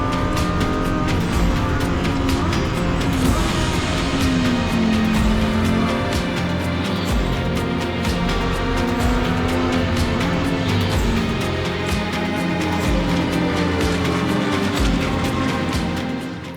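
Race cars at the Red Bull Ring sweep through the final corner at a racing start, a loud, continuous roar of engines with rising and falling pitch as the field passes, steady and close throughout.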